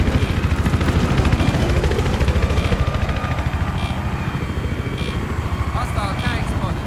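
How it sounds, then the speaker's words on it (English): A video-game helicopter, an enemy chopper on a Kharg Island battlefield, drones as a continuous rotor hum beneath gunfire and battle noise, with a voice announcing over the din. "Enemy helicopter spotted."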